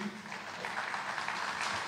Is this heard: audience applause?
yes